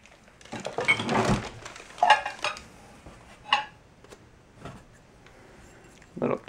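Vintage Pyrex glass dishes clink and knock together in a few short bursts as they are unpacked from a storage locker, with quiet gaps between the contacts.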